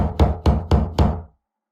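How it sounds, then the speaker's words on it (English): Four loud, evenly spaced knocks on a door land in quick succession and then stop, leaving silence. "The sound of repeated unrelenting knocking wakes me."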